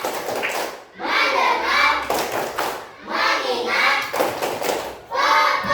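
A class of children claps hands in a rhythmic clap routine, bursts of quick claps alternating with the children chanting words together in a classroom.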